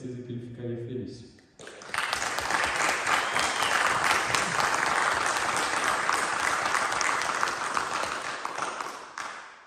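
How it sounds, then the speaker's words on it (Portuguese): An audience breaks into sustained, dense applause in tribute to the luthier Antônio Barros, loud and close, continuing for several seconds after a speaker's voice ends. "se pudéssemos bater palmas agora, em agradecimento ao tio Antônio Barros"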